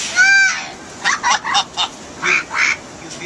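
A pet parrot mimics a duck, giving a rapid run of short nasal quacks, then two longer quacks, loud and close in a quiet indoor room.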